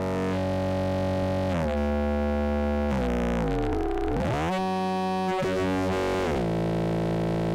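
Sustained synthesizer oscillator tone from a Make Noise DPO, loud and alone, with harmonics that sweep and warp in a swooping sine-wave modulation midway before settling back to a steady buzz.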